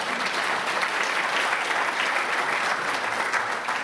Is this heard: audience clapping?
yes